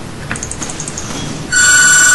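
Electronic phone ringing in the video game Resident Evil 5, a Metal Gear style codec call tone that cuts in sharply and sustains loudly after faint game noise and beeps.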